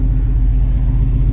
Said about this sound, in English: that's how it runs down the road with the temp right there.